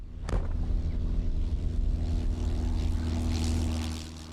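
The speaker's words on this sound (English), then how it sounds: "before you end up here in this fantastic plane. Okay, Julie, take us up" A small propeller plane climbs away on takeoff, its steady engine drone and airscrew hum filling the whole stretch, loud and close with a sharp transient at the start and wind rushing over the microphone.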